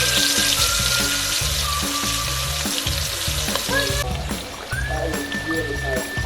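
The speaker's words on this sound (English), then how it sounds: "Now the oil is hot. Now start frying." Chicken pieces fry in hot coconut oil in a pan, a loud, close, continuous sizzle with bubbling and crackling that shifts as the pieces are stirred, with faint background sounds.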